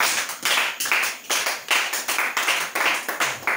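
Church congregation clapping in praise, a sharp rhythmic clap repeated in bursts of roughly even beats, close and loud with no talk.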